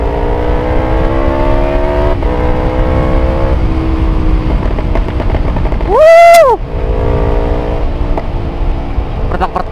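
Motorcycles speeding on a Sunday morning group ride, with a loud steady engine drone and a fast machine roaring past close by with a rising then falling whine, wind rumble throughout.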